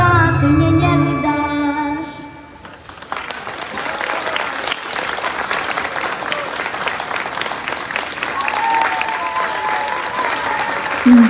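An audience breaks into sustained, dense applause after a folk song performance, clapping loudly and evenly as the last sung notes fade out at the start.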